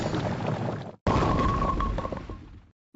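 Old Bowler card sound effect from Clash Royale, a loud rumbling crash with a whooshing tail, heard as two close bursts, the second longer and carrying a brief ringing tone before stopping abruptly.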